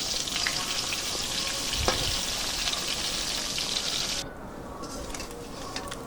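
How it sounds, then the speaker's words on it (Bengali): Koi fish (climbing perch) sizzle and fry in hot oil while being turned side to side. The frying is a steady, close, broadband crackle that softens slightly near the end. "কই মাছগুলো একে একে দিয়ে দিলাম। এখন এপিঠ ওপিঠ করে ভেজে নেব"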